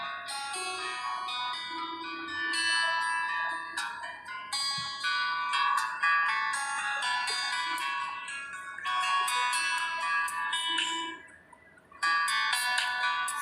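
A Poco C55 smartphone in cool blue plays its ringtone: a bright, electronic melody of chiming bell-like notes, loud and close, with a brief drop near the end before the tune resumes.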